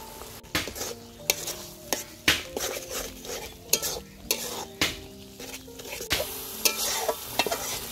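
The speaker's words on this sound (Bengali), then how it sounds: "মশলাটাকে খুব ভালোভাবে কষিয়ে নিব।" Biryani spice paste of nut paste, green chili paste, tomato sauce, biryani masala and salt is stir-fried in a pan, with a spoon knocking and scraping in regular strokes over a steady close sizzle, no voices.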